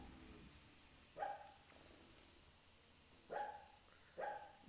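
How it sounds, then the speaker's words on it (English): Sleeping dogs dream aloud, letting out three brief, faint yips or whimpers spaced a second or two apart in an otherwise quiet room. "The dogs are dreaming."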